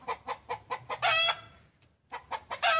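Chickens on a farm give a rapid run of evenly spaced clucks, then a rooster crows loudly and close by, followed by a short pause and more clucking and crowing.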